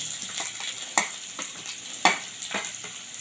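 Chopped onions hit hot oil in a kadai already crackling with fried cumin seeds, giving a steady sizzle broken by sharp spatula scrapes and stirring clacks, close and moderately loud, with no talk.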